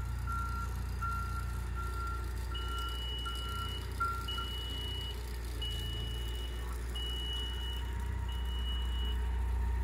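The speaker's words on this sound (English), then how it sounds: "a 95 decibel buzzer with an audible toning cable" A forklift collision avoidance system's 95-decibel buzzer beeps in a steady repeating pattern, joined partway through by a second higher intermittent tone, over a loud constant low hum of machinery.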